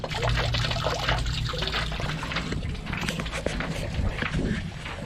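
Water filling a tank and draining out on a Luhrs 28 boat, a continuous close gurgling, splashing flow with sputtering bursts of air.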